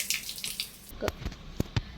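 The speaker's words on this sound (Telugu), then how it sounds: "ఇలా కొట్టుకుంటే వాటర్ వస్తాయి." An old hand pump at a century-old tiled village house is worked by hand, giving a few sharp metallic clanks alongside a brief splash and gush of water, close by.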